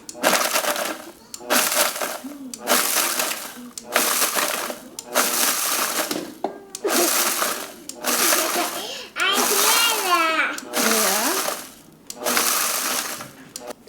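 Homegrown dried peppers pulsed into powder in a blender, about seven loud bursts of whirring and crushing, each roughly a second long and separated by brief pauses.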